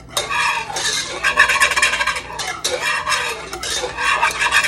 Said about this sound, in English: the whisk actually helps that incorporate much quicker